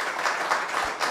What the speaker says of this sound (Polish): Drodzy Państwo, poproszę o brawa dla naszych gości.